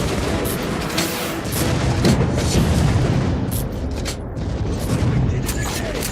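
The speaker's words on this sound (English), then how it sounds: "just keep unloading with grenades until he's dead" Grenade explosions in Metro: Last Light come as repeated heavy booms over dense, continuous game noise, loud and close, with talk present under the blasts.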